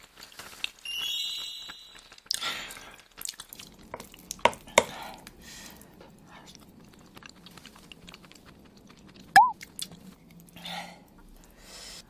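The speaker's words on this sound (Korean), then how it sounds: "저 이렇게 완성이 돼서 밥이랑 같이 한번 먹어보도록 할게요" Someone eats homemade Korean potato curry with rice, made without pork: quiet close chewing and occasional spoon clinks against a dish in a still room, with sparse soft sounds and no talking.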